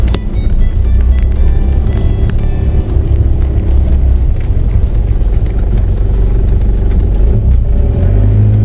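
A 4x4 grinds over slippery, muddy terrain on a rough track, its engine rumbling loud and steady throughout with continuous churning and revving close by.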